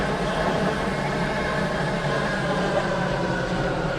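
Waterline Class 730 train in the game Stepford County Railway, a steady, even interior rumble of the train running at speed, constant and unbroken with a low drone.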